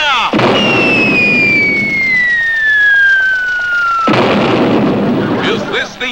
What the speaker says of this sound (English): Ready, aim, fire!